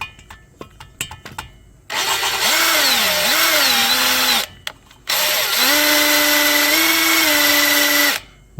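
Engine valves being lapped on a Ford 5.4L 4V cylinder head with a power tool, two loud sustained whirring bursts that rise and fall as it runs back and forth, preceded by faint taps and clicks.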